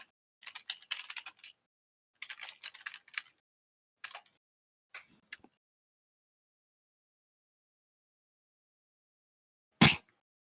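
Bursts of typing on a computer keyboard that is not plugged in: quick clusters of clicky keystrokes with pauses between them, fairly close and quiet, then a single sharper knock near the end.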